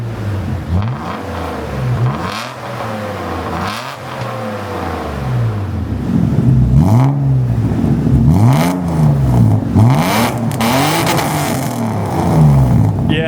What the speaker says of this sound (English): Okay, now let's hear some revs.